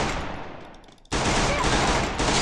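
Gunfire in the Free Fire battle royale game: a fading burst, a brief near-silent gap, then a sudden loud sustained volley of rapid shots that continues to the end.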